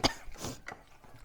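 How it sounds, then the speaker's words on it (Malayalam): A single sharp cough followed by throat clearing, fairly quiet, brought on by fumes while mustard seeds are fried for a tamarind pickle. "ചുമയൊക്കെ വരുന്നുണ്ട്."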